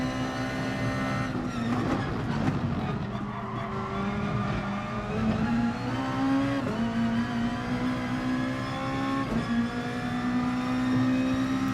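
Lexus race car engine lapping the slippery Red Bull Ring in GT Sport, a loud continuous drone whose pitch rises and falls through the gears, with brief tyre-slip moments and rival cars around.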